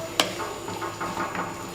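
A utensil scrapes and stirs minced meat with parsley in a pan, with a sharp clink at the start, then soft scraping strokes over a faint sizzle, close and alone.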